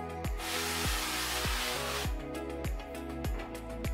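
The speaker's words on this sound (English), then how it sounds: "we're going to spray just a little bit of cooking oil on top." Cooking oil sprays from a can onto country-style pork ribs before air frying: a steady, breathy hiss lasting over a second, heard under louder rhythmic background music.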